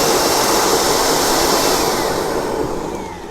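A homemade stove burning waste oil roars with a steady, loud broadband flame rush, close and continuous, easing slightly toward the end.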